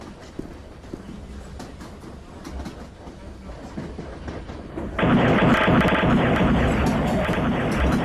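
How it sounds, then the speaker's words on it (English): In a Roblox video game, rumbling subway train wheels clack along steadily, then a sudden louder, harsher roar of grinding noise takes over and continues as the train crashes onto a road. "the subway train crashed onto the road and touched the car"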